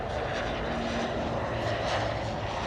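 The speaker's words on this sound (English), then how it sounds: "And on the back, one plane is running on the runway." An airplane runs along a runway at the Boeing facility in Seattle, a loud, steady broadband engine roar that fills the scene without any speech.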